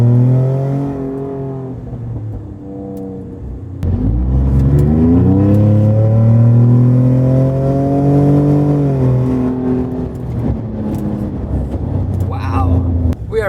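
A 2021 Ford F-150 Raptor with a flash tune and its exhaust valve open, accelerating hard: the engine note climbs through gears with a deep rising roar, a brief shift drop, then settles as it eases off.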